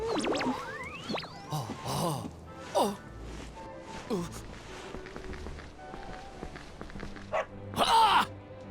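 A dog barking in the video game Dragon Quest 11 S, a few yaps mixed into busy game sounds of running and footsteps, with a sharp bark near the end.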